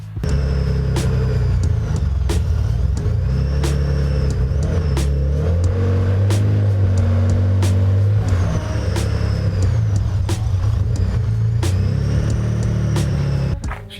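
A Mitsubishi GTO's engine idles close by with a loud, steady low rumble and slight revving swells throughout, along with faint ticking and clatter from the running motor.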